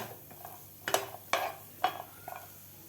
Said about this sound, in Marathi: कांदा आपला थोडासा भाजलेला आहे एक ते दीड मिनिट मी भाजून घेतलेला आहे